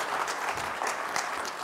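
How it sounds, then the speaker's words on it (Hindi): Steady applause from an audience at a stock-market seminar, a dense, even wash of many hands clapping close by for the whole moment with no voices over it. "ताली ऐसे ही बजाते रहिए"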